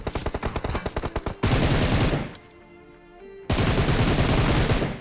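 Loud, close automatic gunfire in the mobile game PUBG Mobile while an enemy is being killed. A rapid burst is followed by sustained fire, a short quiet gap, then another long stream of shots.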